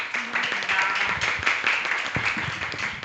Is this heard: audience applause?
yes